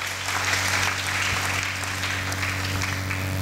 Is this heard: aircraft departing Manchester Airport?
no